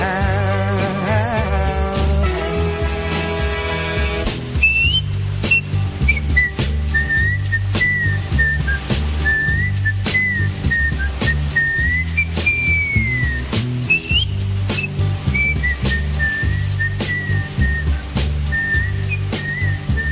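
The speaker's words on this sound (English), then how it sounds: "There he is, the Happy Whistler." A man whistles the melody of a song, a bright wavering tune that carries on for most of the stretch over the song's steady backing band, following a short instrumental lead-in.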